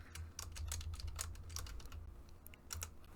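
Quick, light typing on a computer keyboard with an irregular run of clicky keystrokes that pauses briefly and then resumes, quiet and close, with no talking.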